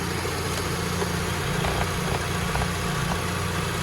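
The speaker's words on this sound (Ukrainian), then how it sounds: "Робота двигуна." A Volkswagen Golf 6 engine idles steadily up close under the open bonnet, a constant low rumble and hum with no talking.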